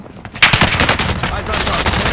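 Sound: gunfire in video game Warzone

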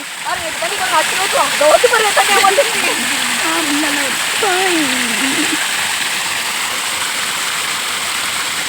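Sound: water rushing over overflowing lake

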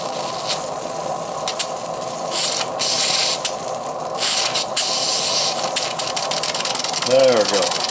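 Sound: Stuart model steam engine running under steam

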